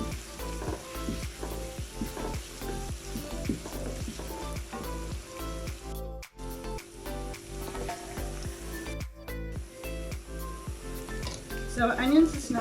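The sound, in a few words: lamb with braising spice searing in a pan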